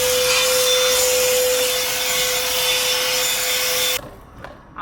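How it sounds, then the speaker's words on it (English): A vacuum cleaner runs steadily with a loud, close whine while cleaning the interior of a Porsche Boxster car, then cuts off abruptly near the end, leaving a quiet rustle. "I'm gonna vacuum a little bit."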